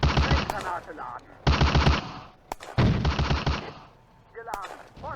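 Infantry small-arms fire and Sturmgeschütz assault gun fire in the Firefight video game on the Eastern Front, with rapid machine-gun bursts in three loud volleys, sharp single shots between, and shouted voices in the gaps.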